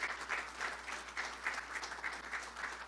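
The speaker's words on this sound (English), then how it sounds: "Let's give Linda a round of applause" A round of applause from an audience at a corporate academy launch, steady rhythmic clapping heard faintly, somewhat distant and even throughout.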